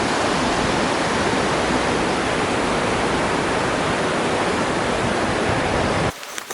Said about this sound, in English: we heard a lot of water running